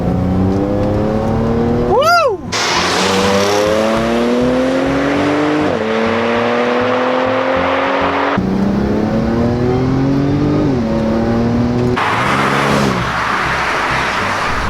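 An APR Stage 2 tuned 2011 B8 Audi S4 roars loudly as it accelerates hard through repeated rising revs and gear changes, with a brief tire chirp early on, up close and dominating throughout.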